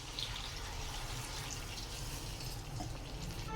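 Water is poured into a cooking pot of chicken stock for pulao, a steady close splashing stream with no break, and no talk over it.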